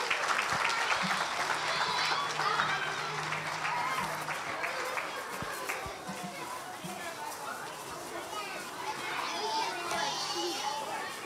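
Audience applause during a Christmas church service as children leave for Sunday school, steady clapping with children's voices and crowd chatter mixed throughout.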